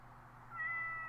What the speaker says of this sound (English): My cat climbed up a tree and can't go down.